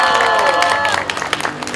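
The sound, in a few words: audience applause at a candlelight rally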